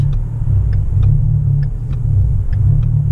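Low, steady engine rumble from a car on a road, with a few faint clicks ticking through; no clear rise in revs, just a loud near hum.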